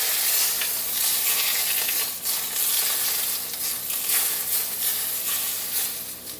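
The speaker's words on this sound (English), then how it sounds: "You want to hear that sizzle of the oil." Hot oil poured over onions for roasted eggplant choka sizzles loudly and continuously up close, a bright crackling hiss with small surges, and no talk.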